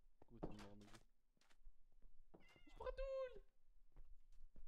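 A cat meows in Minecraft, with a clear rising-and-falling meow standing out near the middle, surrounded by a man's speech before and scattered game sounds and voices.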